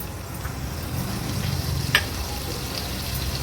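Crushed ginger-garlic hits hot oil already tempered with asafoetida, mustard seeds and cumin, giving a close, even sizzle with light stirring and a small crackle midway, no talk.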